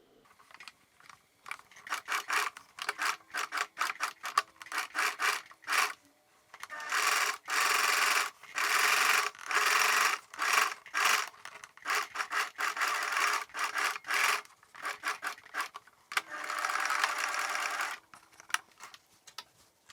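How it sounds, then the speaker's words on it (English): A sewing machine runs a zigzag stitch joining corset bra cup pieces, in many short bursts and pauses, then longer steady runs of rapid needle clatter, close and clear. "We're going to make use of a zigzag stitch to join these pieces like so."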